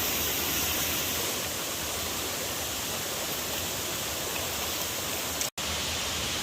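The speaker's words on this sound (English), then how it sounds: "we're coming up to the edge of the waterfall here. You can hear the thunderous roar" A steady, thunderous roar of falling water fills everything, loud and unbroken, with a brief dropout near the end.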